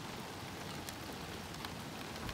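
Moderate rain falls steadily in Téteghem in northern France on a July morning, a continuous soft hiss of drops with faint scattered patters and no voices.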